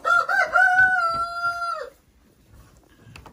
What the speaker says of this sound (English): this is one of the roosters you listen to all the time.